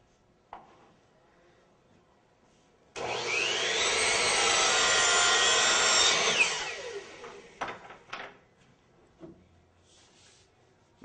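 A power miter saw cuts an inside miter in crown moulding in one loud, sustained burst of about three seconds, spinning down with clatter afterward amid quiet shop noise.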